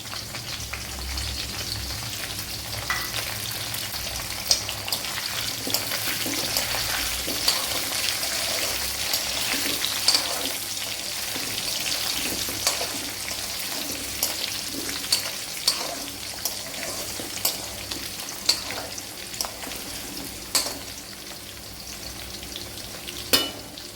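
Garlic cloves and a small piece of ginger frying in hot oil for an Onam-style gooseberry (nellikka) pickle, giving a steady close sizzle with scattered crackles and occasional stirring clicks, with no talking.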